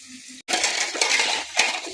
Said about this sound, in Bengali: বাসন মাজা হয়ে গেল, এখন এই যে বাসন ধুচ্ছি